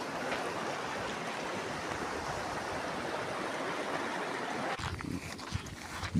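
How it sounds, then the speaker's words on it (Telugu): Water rushes steadily in an outdoor stream, a continuous broadband hiss that holds even in level throughout, with a slight shift near the end. "ఆ తర్వాత వాటర్ ఎలా వస్తుందో మీరే చూడండి"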